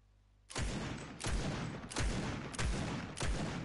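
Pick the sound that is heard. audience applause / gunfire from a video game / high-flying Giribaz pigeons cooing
gunfire from a video game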